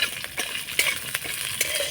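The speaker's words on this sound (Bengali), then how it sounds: "হালকা নাড়াচাড়া করে ভেজে নেব।" Peanuts, chana dal, ginger, green chillies and flattened rice are stir-fried in oil, with a continuous close sizzle and several scraping stirs of a spoon against the pan.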